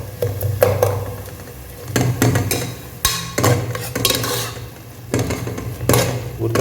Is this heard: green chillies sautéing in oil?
yes